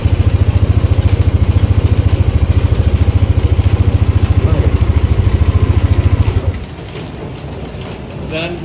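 A motorcycle fitted with an anti-theft tracking system idles after being started, a loud, steady low throbbing pulse that holds for about six seconds and then cuts out, leaving quiet background.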